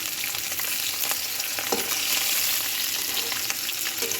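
Bhetki fish frying in a pan of hot oil, a steady dense sizzle with crackling pops throughout, close and continuous with no voices.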